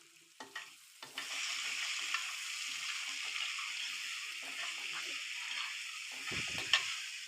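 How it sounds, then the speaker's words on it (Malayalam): Onions with salt are stirred and sautéed in a pan, giving a steady broadband sizzle with scraping stir strokes near the start and a louder clatter of utensil contact toward the end, with no talking. "ആദ്യം ഒന്ന് ഇളക്കി കൊടുത്തത് അടിയിൽ പിടിക്കാതിരിക്കാനാണ്."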